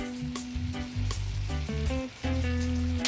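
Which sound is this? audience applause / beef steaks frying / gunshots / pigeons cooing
beef steaks frying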